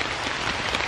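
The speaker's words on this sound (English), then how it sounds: "I'm gonna wait for this rain to die down" Rain falls in Norfolk woodland at a wild camp, a dense, even patter of drops on leaves and surfaces, steady and fairly loud with no talking.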